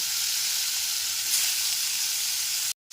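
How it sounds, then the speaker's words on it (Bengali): Potato pieces coated in salt and turmeric fry in oil over a low-to-medium gas flame for chicken curry, making a loud, even, continuous sizzle and hiss that cuts off abruptly at the end. "সমস্ত লবণ আর হলুদ মাখানো আলুগুলোকে ভেজে নেব"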